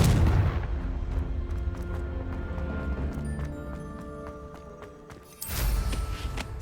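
A Confringo fire spell in Hogwarts Legacy ends in a loud, broadband blast near the end. Before it there is a steady rumble of game sound with rapid percussive hits, and no talking.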